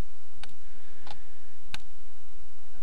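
Three crisp mouse clicks spaced roughly half a second apart as checkboxes are ticked in gaze-tracking software, close and dry over a steady low hum.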